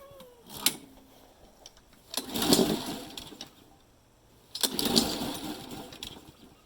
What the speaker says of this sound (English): So now we're going to turn on the lawnmower.